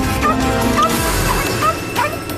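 Four terriers bark in sharp yips and whimper repeatedly during a home robbery, the dog noises close and frantic over a steady low background rumble, with no talking.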